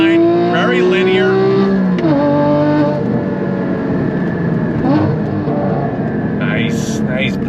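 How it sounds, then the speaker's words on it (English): A modified Porsche Cayman GT4 with a 6-speed manual climbs sharply in pitch under hard acceleration to redline, a rising whine that pulls high, with a voice speaking over it. "On throttle! Pulls all the way to red line."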